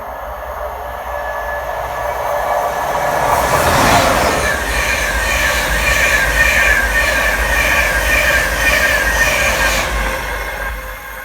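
A Train Sim World 2 train rumbles past at close range, wheels clattering over the rails with a loud, sustained roar and faint metallic squeals.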